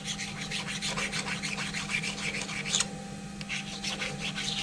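Sharpening stone rubbed over raised burrs on a metal backplate for a Bison 4-jaw chuck, quick rhythmic scraping strokes close up over a low steady hum, with a brief pause near the end.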